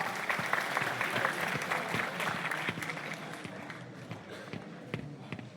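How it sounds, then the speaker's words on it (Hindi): Loud applause for a vice-chancellor at a national social science conference, dense clapping from a crowd that starts strong and slowly thins over several seconds, with a few sharper claps near the end. "जोरदार तालियों के"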